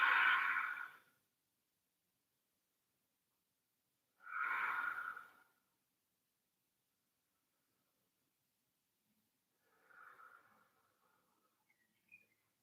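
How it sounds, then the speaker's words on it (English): Ujjayi breathing during a slow yoga flow: two long, audible breaths close to the mic, each about a second, separated by silence, then a fainter, softer breath near the end. "just keeping that Ujjayi breath going. Breathing with sound."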